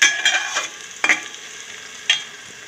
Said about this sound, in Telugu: ఉల్లిపాయలు వేగుతున్నాయి కదా, ఇప్పుడు పచ్చిమిరపకాయలు వేసుకుందామండి.